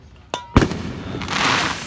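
A Winda Smoke Dragon 16-shot 200g firework cake starts up with two sharp pops close together, the second louder, then a rising hissing burn that continues.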